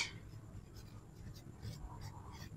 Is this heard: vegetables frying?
no